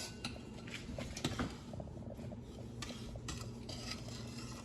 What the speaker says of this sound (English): Now I'm gonna stir it